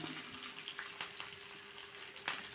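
Mustard seeds, shallots, dried chili and curry leaves sizzle in hot oil for a taro curry, a dense steady crackle with small pops throughout.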